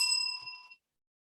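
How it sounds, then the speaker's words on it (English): A lone timer bell dings once and its metallic tone fades quickly, quieter and slightly more distant. "we will ring the bell again."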